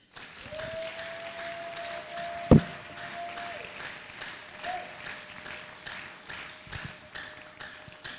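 A church congregation applauding the Lord during a worship service: steady, moderately loud clapping from many hands continues throughout, under a sustained tone and one sharp knock.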